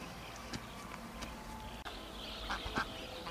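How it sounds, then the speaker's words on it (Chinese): Ducks give a few short quacks, a quick pair near the end standing out over a faint outdoor background, with no talk. "这我们的鸭子上来了，估计是被这四只鹅赶上来的。"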